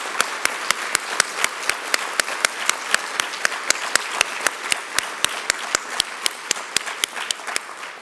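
An audience at a diversity forum welcome and keynote applauds steadily, with sharp, evenly spaced claps standing out over a softer wash of many hands throughout.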